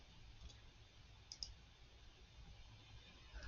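A quiet computer mouse click, a single soft double tick against faint room hiss.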